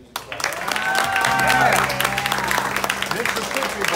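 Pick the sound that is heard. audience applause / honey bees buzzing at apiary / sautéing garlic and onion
audience applause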